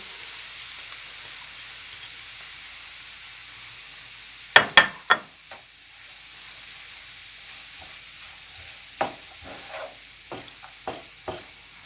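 Chopped onion going into a hot pan of sautéed cracked green olive filling for börek, with the heat just switched off: a low hiss runs under a few sharp scraping stir strokes and clicks, near and fairly quiet, with no voices.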